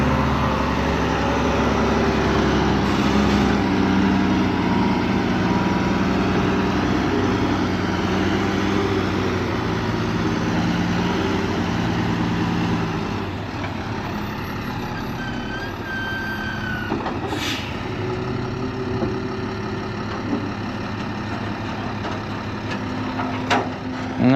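A dump truck emptying a high-piled load of dirt at a large pond project, with a steady engine rumble and a long scraping slide of material, then a quieter idle after the load tips out. A faint reversing beep also sounds.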